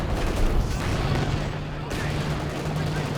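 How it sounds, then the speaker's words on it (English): Artillery strikes land in the video game Company of Heroes 2 as a dense, rumbling barrage of blasts and gunfire, loud and continuous, with a sharp change in texture partway through. "Artillery dropped on the Zis."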